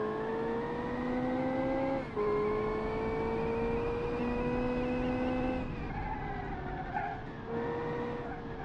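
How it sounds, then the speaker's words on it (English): A McLaren Senna V8 engine in a racing video game, a high, tonal engine whine rising through sequential gear changes with brief dips between shifts, steady and fairly close. "But this thing has the McLaren Senna V8."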